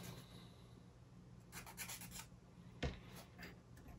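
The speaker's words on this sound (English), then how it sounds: "we do need to sand all around" A small wooden UGears model part is sanded by hand, with soft, steady rasping strokes close by, and a louder scrape and knock partway through in a quiet room.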